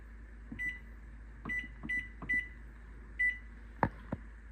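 A kitchen timer beeps as it is set, with several short, faint electronic beeps at uneven intervals plus a couple of soft clicks over a low steady hum.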